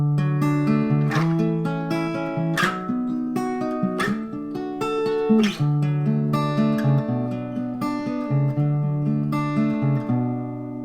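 A guitar plays the end-of-chorus part of a country song: plucked notes and chord strums ring out alone, close and clear, in a steady lilting rhythm with no voices.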